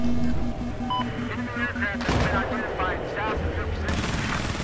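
Bursts of gunfire crackle through a Battlefield 4 close-quarters match, sustained and fairly loud under in-game ambience, with voices talking over it.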